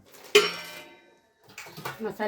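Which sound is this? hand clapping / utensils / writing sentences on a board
utensils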